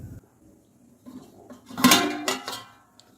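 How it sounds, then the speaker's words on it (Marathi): A metal lid is set onto a cooking pot on a gas stove, giving a couple of close clanks and a short rattle in a quiet kitchen. "पातेल्यावर मी झाकण ठेवते म्हणजे पटकन उकळी येईल"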